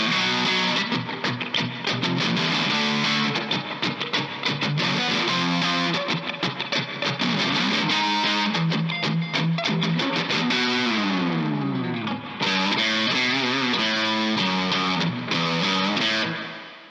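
Loud distorted electric guitar plays a riff with percussive chugging that climbs upward in thirds, repeating in phrases with rising slides before fading out at the end, no voices.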